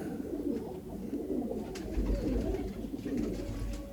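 A Shah Kheg female pigeon in a loft coos in low, murmuring bursts, with a few light clicks and rustles nearby.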